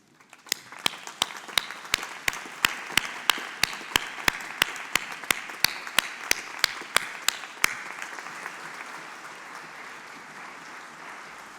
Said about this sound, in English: give their parents, friends and families a round of applause